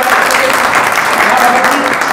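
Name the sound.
audience applause welcoming a party member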